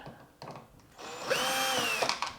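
A power drill backs screws out of a Samsung washer dryer during a repair, a short whir that ramps up and holds steady, preceded by a few light clicks.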